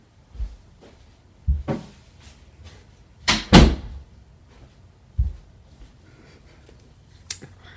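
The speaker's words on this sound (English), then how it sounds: "I gotta close my door." A door is shut indoors: a few soft knocks and bumps lead up to one loud, close thud near the middle, with quieter taps before and after and no voices.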